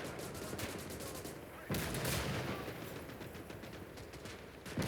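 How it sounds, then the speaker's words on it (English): Artillery strike and gunfire in the World War II game Call to Arms Gates of Hell, Clash at Narva: dense, continuous rattling shots with a heavier blast partway through, fairly faint and distant. "That's a good artillery strike."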